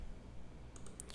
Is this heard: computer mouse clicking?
yes